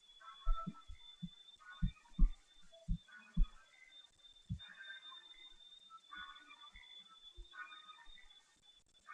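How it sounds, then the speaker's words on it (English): Airplane motor in a video game flight demo: a steady, thin high-pitched hum drones throughout, with soft low thumps scattered beneath it. "This has a crappy motor, doesn't it?"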